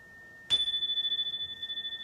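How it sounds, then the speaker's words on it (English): A single meditation chime rings out at half a second with a bright metallic strike, then a clear sustained tone hangs and slowly pulses as it decays, alone against near silence. "which is why I add in chimes for every 60 seconds to Serenity."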